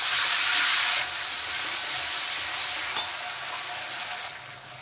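Onion fries with ginger-garlic paste in a hot pan, a strong steady sizzling hiss that drops slightly after a second, with a single faint scrape of stirring, close and continuous.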